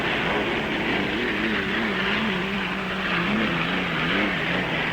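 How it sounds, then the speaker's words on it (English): Miss Supertest, a hydroplane racing boat, roars at full throttle while leading a 1960 Gold Cup race on the water, a steady loud engine drone with a wavering pitch running throughout. "Hayward shoves the throttle to the floor."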